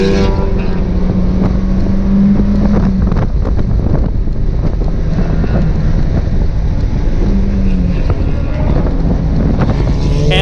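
A DIY Mazda Miata's engine drones loud and constant during a fast lap at a track day at TMP Cayuga, buried under heavy rushing wind noise with occasional rising and falling engine notes.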